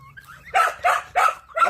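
A guard dog barks four times in a quick, even rhythm, loud and close, with nothing else over it.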